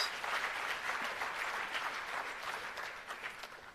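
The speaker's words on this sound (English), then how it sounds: "Let's give a big round of applause to the institutions." Moderate audience applause at a launch event for technology centres of excellence, an even wash of clapping from a hall full of people, steady throughout with no talk.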